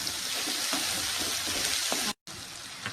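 Onions and tomatoes frying in a pan give a steady, close hiss of sizzling oil with small pops, cutting out briefly near the end before resuming.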